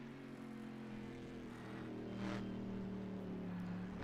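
In a racing video game, a Corvette engine drones steadily while lapping the Daytona International Speedway banking, a sustained mid-pitched tone rising slightly partway through, fairly faint and with no talk over it.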